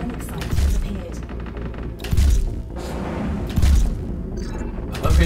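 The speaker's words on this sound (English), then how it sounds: "I keep using a charge shot, but I can also just spam smaller shots." Spaceship weapons fire in the VR space-combat game EVE: Valkyrie, with heavy booming blasts landing roughly every second and a half over a rumbling engine drone, while someone talks throughout.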